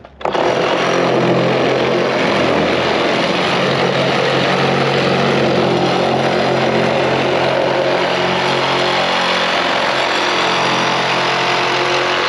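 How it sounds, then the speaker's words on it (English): A power tool starts abruptly and runs at a loud, steady, high-pitched drone nearby while cutting the valves off a plastic IBC tote, holding constant for the whole stretch with no voices. "cut the valves here, I like to cut just on this back side."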